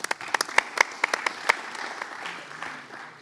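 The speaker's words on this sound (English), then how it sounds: "a round of applause." Audience applauding Mayor Nutter, past president of the U.S. Conference of Mayors, at a community policing conference: a brisk burst of sharp claps with a few loud individual hand claps standing out, thinning toward the end.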